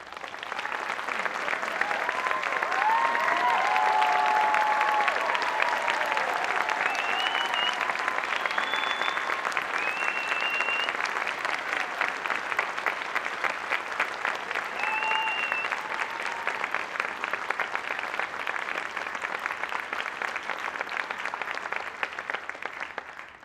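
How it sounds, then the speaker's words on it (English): A school audience at a 2024 middle school moving-on celebration gives teachers a long, sustained round of applause, dense and even throughout, with a few faint cheers and whistles rising above the clapping. "please join me in acknowledging our dedicated and caring teachers with a round of applause"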